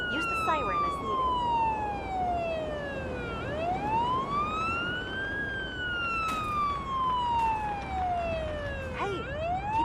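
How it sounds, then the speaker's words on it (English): In the paramedic simulator game Ambulance Life, an ambulance siren wails loudly with slow rising and falling sweeps and short yelp bursts, sounding close over a low engine rumble. "Use the siren as needed."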